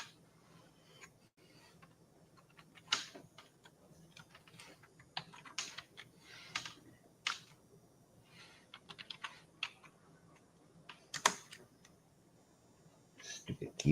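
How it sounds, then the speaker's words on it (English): Typing on a computer keyboard in uneven bursts of close clicking keystrokes, with quiet talk now and then. "Stupid keyboard."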